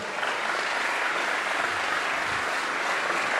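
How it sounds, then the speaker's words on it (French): An audience applauds a panel of speakers, a broad, even wash of clapping from a crowd that stays steady and moderately distant throughout. "on peut applaudir ces panélistes"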